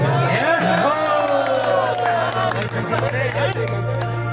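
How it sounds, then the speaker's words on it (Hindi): Crowd at a bhajan devotional singing event breaks into loud, sustained clapping and cheering that fills the clip, with a steady low hum beneath and voices mixed into the applause. "एक बार जोरदार तालियां हमारे धर्मेंद्र भैया के।"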